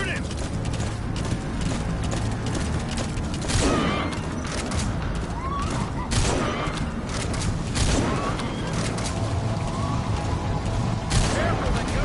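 Gunfire in Metal Gear Solid V, scattered shots and bursts in a busy in-game scene with hoofbeat-like clatter, mixed under ongoing voices.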